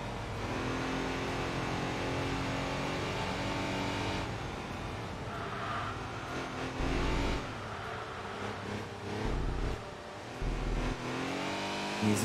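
Audi and Jaguar race cars in Enthusia Professional Racing roar continuously at high revs, engine pitch climbing and dropping through gear changes as they battle closely, loud and steady with no talk.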